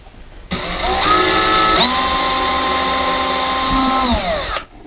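A power drill bores a very small hole into a wall to find a stud, its motor whining loud and close for about four seconds, with the pitch shifting as the bit bites in before it stops.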